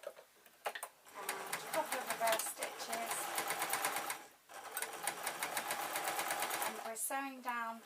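A sewing machine stitches a fleece bootie in close, rapid runs with a short pause midway, and a voice speaks briefly near the end.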